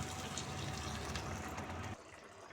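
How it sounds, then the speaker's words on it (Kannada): Hot water pours and splashes steadily into a pan of cauliflower for about two seconds, then the flow stops and a quieter kitchen hum remains. "ಸ್ವಲ್ಪ ಬಿಸಿ ನೀರು ಹಾಕೋಣ"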